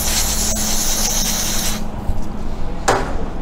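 Aerosol cleaner sprayed onto bicycle brake pistons while bleeding SRAM road brakes: a steady close hiss lasting under two seconds, then a short second spray burst.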